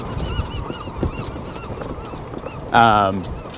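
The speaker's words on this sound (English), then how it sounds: "ooh, seagulls" Gulls call out over a golf course on a grassy morning round: a loud, harsh, drawn-out cry bursts in near the end, rising above steady outdoor background noise and faint earlier calls.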